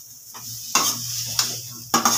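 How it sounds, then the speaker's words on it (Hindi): Flattened rice (poha) is stirred in a pan, and three distinct scraping strokes of the spoon against the metal rise over a faint steady sizzle, close up with no talking. "पोहा डालने के बाद अब हम इसको मिक्स करेंगे।"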